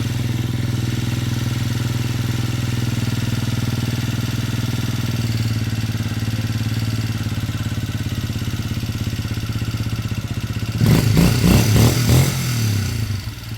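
A Kymco Zing 125 scooter engine runs at a steady idle close by, a constant low mechanical drone that swells into a louder, rougher clattering burst near the end.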